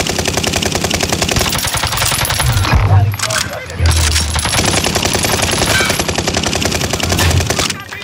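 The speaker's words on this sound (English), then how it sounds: "I'm shooting him between the legs of Diego." Rapid automatic gunfire in a first-person shooter game, a dense, loud, continuous rattle of shots that barely lets up, with a player's voice talking over it.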